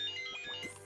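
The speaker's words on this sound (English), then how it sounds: "that was my phone. I forget I have ringtones." A phone ringtone plays briefly, a short melodic tone pattern sounding faintly in a quiet room.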